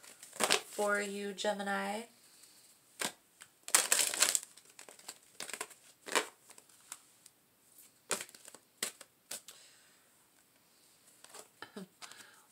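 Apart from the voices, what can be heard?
handling and pulling tarot guidance cards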